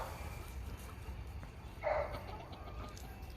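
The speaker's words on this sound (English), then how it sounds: "We have a lot of chickens, y'all. I got so many chickens now." A chicken clucks once, faint and brief, over a low rumbling outdoor background on a small hobby farm.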